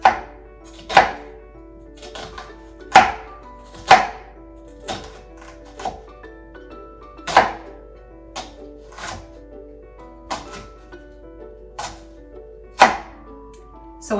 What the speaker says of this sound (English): So once we have cut our onion that way